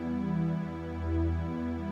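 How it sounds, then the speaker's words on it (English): A soft string pad synth from a trap beat holds warm sustained chords, smooth and steady with a gentle swell in the middle, no voices. "we add in this cool string pad"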